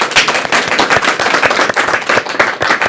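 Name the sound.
audience clapping for an elderly woman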